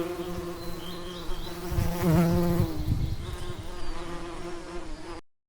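In a 3D kids' animation, a dense, steady buzz of many bees hums close by, swelling louder midway before fading out at the end.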